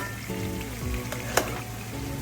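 Ribeye steak with mango chutney sauce cooks in a pan, sizzling and crackling steadily throughout with one sharp pop near the middle, close and fairly loud.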